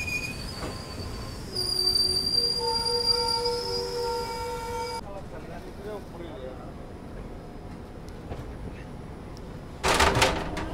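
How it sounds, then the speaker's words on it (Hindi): Begampura Express train departing Jammu Tawi railway station, wheels squealing in long sustained high tones over a rumbling carriage, with a sudden sharp burst of noise near the end. "अपनी ट्रेन डिपार्ट कर चुकी है भाई जम्मू तवी रेलवे स्टेशन से"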